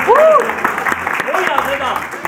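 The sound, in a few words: studio audience applause on a quiz show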